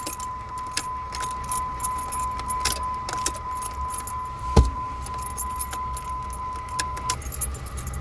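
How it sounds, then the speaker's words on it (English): Keys jangle and rattle as the key is pulled from the ignition of a 2005–2009 Jeep Liberty 3.7 L. The close metallic clinks come in repeated bursts and a sharp knock over a steady chime tone inside the car. "I'm gonna take the key out."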